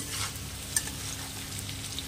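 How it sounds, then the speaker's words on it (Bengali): Potato and onion fry in a pan, a soft steady sizzle close by with a faint stir or clink near the middle, briefly and without talking. "এখানে আলু পেঁয়াজ ভাজাটা বসানো।"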